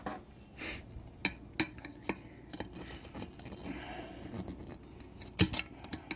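Cutting out the old tire valve stem on a TaoTao Rhino 250 ATV brings faint metallic snips and clinks, scattered irregular taps with a couple of sharper clicks, close but quiet.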